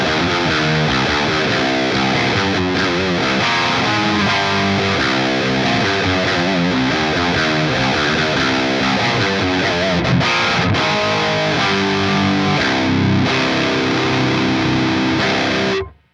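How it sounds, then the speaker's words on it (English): Heavily distorted electric guitar through a Peavey 5150/6505 amp plays continuous chords and riffs, dense and loud, ringing out for the full length before cutting off. "The distortion sounds fine in my opinion,"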